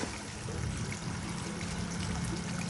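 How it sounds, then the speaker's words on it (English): Water drawn from a ditch by a small sump pump pours steadily into pipes, a continuous close-up gushing and trickling flow with no talk. "I'm sucking water out of the ditch"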